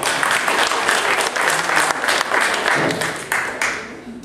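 Loud, sustained applause from a sizable crowd at a board of directors meeting, many hands clapping steadily before tapering off.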